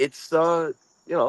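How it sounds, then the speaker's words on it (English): Crickets chirp outdoors at night in New Jersey, a faint steady high trill that runs under someone talking close by. "Yeah, I can hear the crickets in the background."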